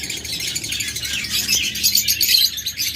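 Lovebirds in a cage chirp continuously, a dense chatter of high, rapid tweets from a breeding pair, close and fairly loud with no voices.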